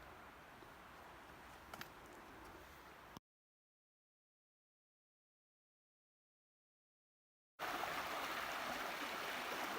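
Cold Creek, a mountain stream on the Georgia Pinhoti Trail, rushes steadily over rocks with a broad, even hiss, cutting out into silence midway and then returning slightly louder.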